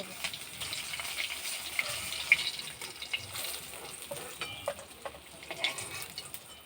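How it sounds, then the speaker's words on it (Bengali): Fish fries in a pan in a village kitchen, giving a steady low sizzle with occasional stirring scrapes and light clinks, fairly faint throughout with no one talking. "বাকি মাছগুলো ভেজে নেব"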